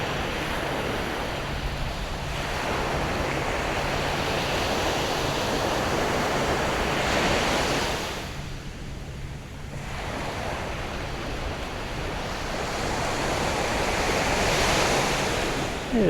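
Ocean surf rolls onto Napatree beach in Rhode Island, a continuous loud wash of breaking waves with a brief lull midway, mixed with wind rumble on the microphone and no voices.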